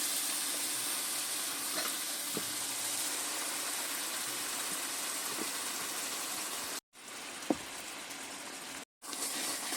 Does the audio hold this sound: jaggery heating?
yes